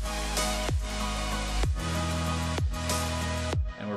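Instrumental EDM cover with no vocals: loud, dense full mix with a deep sub-bass and kick pulse, bright synths and a steady beat, with four rhythmic drops and sweeps across the passage.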